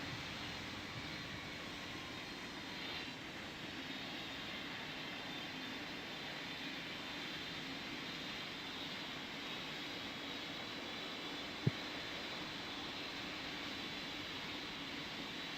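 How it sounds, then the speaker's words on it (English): An airliner takes off in a Roblox pilot training flight simulator game, a steady even jet engine roar holding throughout at moderate level, with a single sharp click near the end and no talk. "Cebu Air 78 Heavy, you're cleared for takeoff on runway 13."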